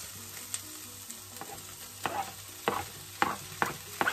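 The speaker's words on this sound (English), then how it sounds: "So now I'm going to go in with my mushrooms." Mushrooms hit a hot, oiled pan over high heat, a steady sizzle and fry with scattered stirring scrapes and knocks that grow louder toward the end, close up and without talk.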